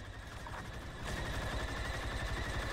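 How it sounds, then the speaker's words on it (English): Dense, continuous video-game gunfire, probably automatic weapons, firing at a steady rapid rhythm that grows louder and busier after the first second, with no voices. "I'm still shooting."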